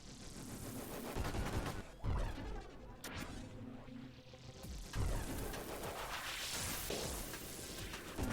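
Cannon fire from a full cannon build in the Nova Drift video game, with repeated loud blasts and crashing bursts amid dense, busy action noise at steady high volume. No voices.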